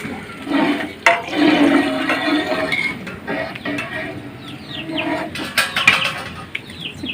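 Water is poured into a pot of Chalakudy dum biryani, a steady rushing splash nearby that swells and eases, with brief clatter and bird chirps in the background.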